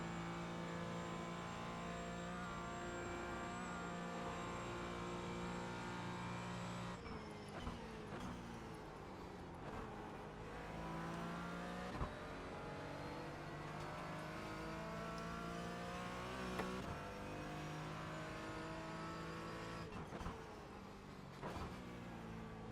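A Porsche Cayman GT4 in iRacing is held near its redline above 140 mph, a steady, loud, dense engine drone with a shift or lift near seven seconds and brief dips later, playing alone without talk.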